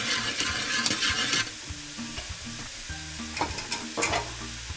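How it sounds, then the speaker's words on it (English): A spoon stirring a pot of water being readied for boiling bagels, with watery swishing and scraping strokes, louder at first and then quieter with occasional splashy bursts. "Give it a good stir"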